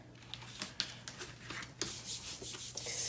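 A hand smooths pink cardstock onto a sticky Cricut cutting mat, making soft close rubbing and brushing strokes with a few light taps over a faint hum.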